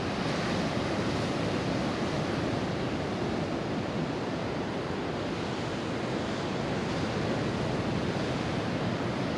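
Surf rolling onto Romar Beach at Orange Beach under an overcast sky, a steady, dense roar of breaking waves mixed with wind buffeting the microphone, continuous and fairly loud with no voices.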